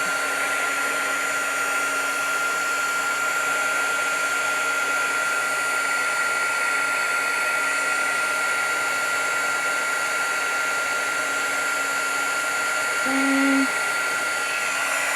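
A heat tool used for heat embossing a card blows with a steady, close, even whirring hiss that runs without a break, with a brief change in pitch near the end.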